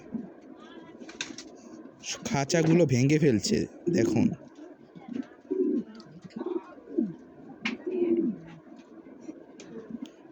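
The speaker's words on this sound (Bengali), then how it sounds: "গিরিবাস কবুতরকে দেখে মন্ডিয়ান কবুতর কীভাবে ডাকছে" A male Mondian pigeon in a cage coos repeatedly at a Giribaz pigeon, with close, throaty bursts of cooing rising and falling as someone talks over them.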